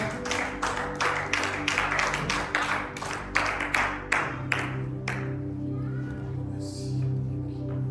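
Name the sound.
congregation clapping for the preacher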